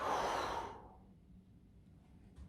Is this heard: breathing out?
yes